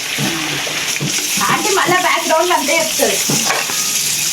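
A batch of chicken frying in a kadai gives a steady, loud sizzle with bubbling and stirring, while a person talks over it throughout.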